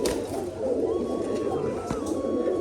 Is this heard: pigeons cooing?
yes